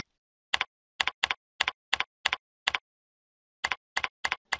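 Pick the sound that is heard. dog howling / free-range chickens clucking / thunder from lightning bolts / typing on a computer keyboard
typing on a computer keyboard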